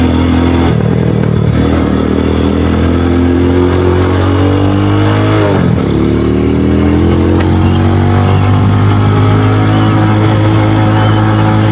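A Venom X22R motorcycle engine drones loud and close at high revs in second gear, holding a steady roar with a brief dip and rise in pitch partway through, with no talking.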